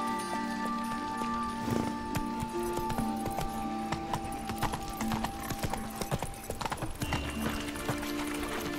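Horse hooves clip-clopping at a gallop in The Witcher 3: Wild Hunt, a quick, steady rhythm of close hoofbeats with light jingling of tack over a dense game soundscape.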